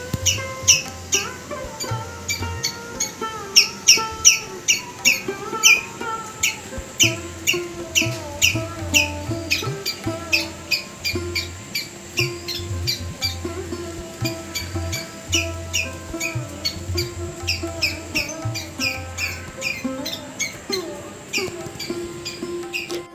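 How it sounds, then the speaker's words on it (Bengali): Morning birds chirping in a busy chorus, rapid repeated high chirps and squeaks rising and falling over a constant low background hum. "পাখির কলরব শুনতে পারছো তোমরা"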